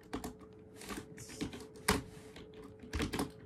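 A terminal command is typed on a computer keyboard in quick irregular bursts of soft key clicks, close and fairly quiet, with short pauses between bursts.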